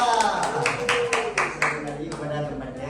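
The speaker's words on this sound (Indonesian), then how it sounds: "tepuk tangan buat kelompok 2" A classroom of students claps for a group after its presentation, a short burst of scattered applause with voices talking over it.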